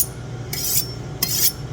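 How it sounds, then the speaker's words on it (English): A kitchen knife is drawn along a honing steel to remove burrs before trimming brisket, giving two distinct metallic scraping strokes, each about a quarter second long, over a low steady room hum. "I'm just running them through the steel to take off any burrs on the knife."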